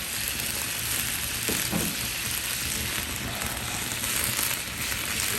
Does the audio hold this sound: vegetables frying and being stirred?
yes